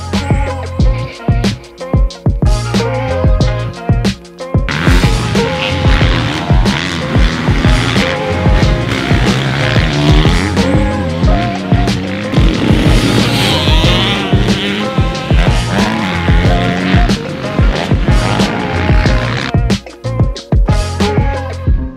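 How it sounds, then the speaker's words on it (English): A 2023 Suzuki RMZ250 motocross bike engine revs hard while riding, loud and continuous with rising and falling throttle pitch across the whole stretch, no talking. "where the Suzuki makes its money is really in the low end grunt and the low end power that it has coming off the crack of the throttle"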